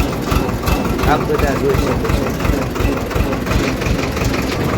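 A tractor engine runs steadily in a village, a close, loud chugging idle with a regular low throb, while someone talks over it.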